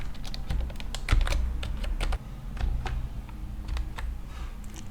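Close, crisp keystrokes on a computer keyboard as a password is entered, irregular quick clicks with a few heavier presses and a short pause midway, with no voices.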